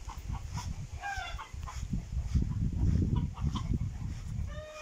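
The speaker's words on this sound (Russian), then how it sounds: "Сейчас петухи должны создавать звуки, крики." Roosters and hens on a village farm cluck and call in short bursts, with brief crowing phrases over a busy low rumble of birds nearby.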